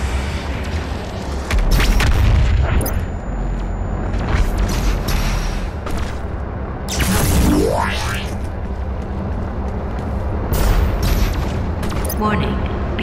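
The BFG 10,000 firing in Doom Eternal: heavy booms and roaring blasts over a dense, loud backdrop of combat noise, with a rising whoosh partway through, and a voice speaking over it.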